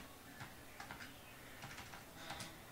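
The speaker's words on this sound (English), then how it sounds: "We're going to type in GJ underscore game sheet" Quiet clicking of keys on a computer keyboard, short irregular bursts of taps spread across the clip, close but soft, with no talk.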